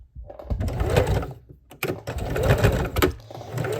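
A sewing machine stitches and back stitches while making a fabric bowl cozy, its motor whirring in two close, steady runs broken by a short pause.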